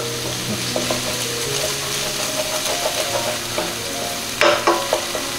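Garlic, with ginger and onion for fish and dumplings, sizzles steadily in a pan while a utensil scrapes and stirs it, ending in a few louder clatters near the close.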